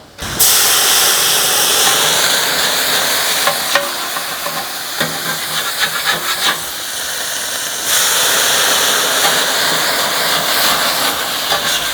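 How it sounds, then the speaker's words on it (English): Water splashed onto a hot Napoleon stainless steel griddle bursts into a loud, sustained steaming hiss close by, easing slightly midway before surging again, with no talk. "all right, let's do a little water."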